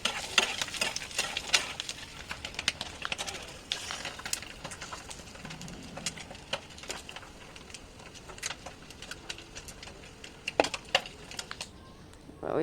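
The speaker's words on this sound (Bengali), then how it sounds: "ডিমগুলো লাল লাল করে ভেজে নিয়েছি" Eggs frying in oil in a pan, a soft steady sizzle broken by scattered crackles and pops, with light stirring or scraping noises, fairly quiet and without speech.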